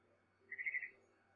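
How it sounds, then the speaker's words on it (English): A barn swallow in the video game What Remains of Edith Finch gives a short burst of a few quick, bright chirps, fairly faint against a quiet background. "Then I heard chirping outside my window."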